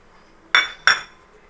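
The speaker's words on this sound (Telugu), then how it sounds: "ఇప్పుడు ఇవి ఒక మిక్సింగ్ బౌల్లోకి శనగలు వేసేసుకొని" Chickpeas tipped into a mixing bowl land in two quick, bright clattering bursts close by, each fading fast against a quiet background.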